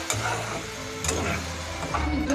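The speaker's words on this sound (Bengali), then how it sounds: "এবার মশলা পড়ে গিয়েছে, এবার আমি কষিয়ে নেব" Spices for a potato and pea curry being sautéed and stirred in a pan, with a continuous frying sizzle and occasional clicks of the spatula against the pan, fairly close and steady.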